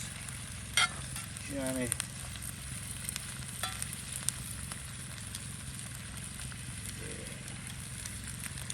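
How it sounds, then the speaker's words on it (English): Peppers and onions sauté in a pan over a campfire at night for fajitas, producing a steady, close sizzle with a few sharp utensil clicks. A voice speaks briefly. "I'll saute these peppers and onions"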